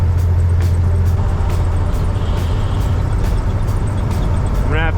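A truck's engine drones low and steady while driving, a continuous heavy rumble throughout, with a voice briefly audible near the end.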